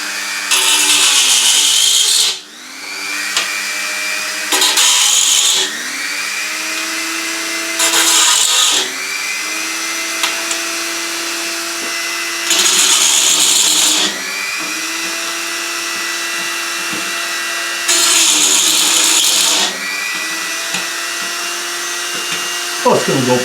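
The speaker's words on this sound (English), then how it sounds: "I'm just going to grind out these holes because the drill kind of caught and made some marks" A power tool grinds out drilled holes in a biscuit tin guitar body, loud and harsh, in repeated bursts of a few seconds each with a lower steady whir between them.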